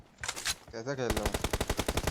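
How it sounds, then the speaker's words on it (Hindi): M24 rifle fire in a mobile shooter team deathmatch game, heard as a rapid, even run of close gunshots that follows a brief muffled burst. "कितना गोली तो मार रहा हूँ इनको मैं"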